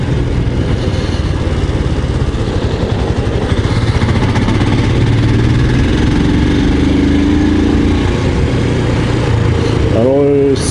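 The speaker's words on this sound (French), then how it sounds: "Alors ce moteur est d'une ancienne génération" A Royal Enfield Scram 411 motorcycle's older-generation single-cylinder engine running steadily, a continuous close chugging drone throughout, with faint talk around it and a brief rising rev near the end.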